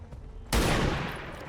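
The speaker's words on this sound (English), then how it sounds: "We take the shot at the one in the back with the sniper" A sniper rifle shot in XCOM 2 fires as a single sudden loud blast with a long rumbling tail that fades slowly, after a quiet lead-in.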